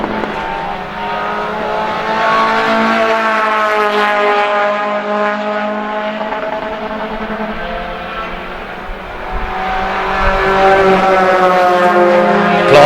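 Race cars in a VW Polo-style one-make challenge roar past on track, a loud droning pack of engines holding steady and then swelling as more cars approach close by.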